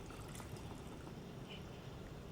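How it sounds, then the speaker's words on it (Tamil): Tamarind water pouring steadily into a pot of curry, a continuous splashing trickle that stays close and even throughout. "இப்போது இதில் நம்ம கரைச்சி வச்சுருக்க புளி தண்ணியை ஆட் பண்ணிக்கலாம்."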